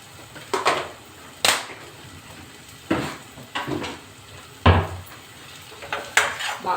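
A spoon stirring fish curry (vanjaram pulusu) in a metal pot, a series of about eight sharp scraping knocks against the sides at irregular intervals, close and fairly loud with no talk.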